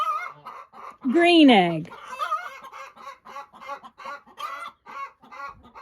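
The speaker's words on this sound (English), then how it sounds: "This hen is really mad at me." An angry hen lets out a loud, squawking burst of clucks close by, then quieter clucking carries on under a person talking.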